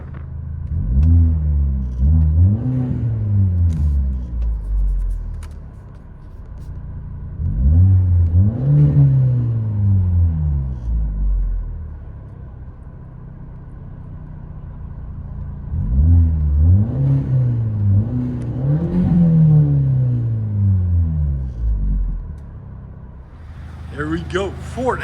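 A 2013 Ford Escape 2.0L turbo with straight pipes, heard from inside the cabin, revs up three times, each throaty rise climbing and falling back to a low, droning idle in between.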